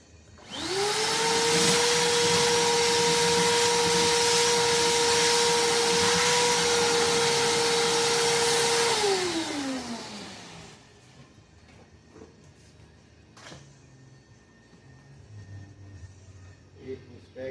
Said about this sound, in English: It's just a little El Cheapo shop vac, guys.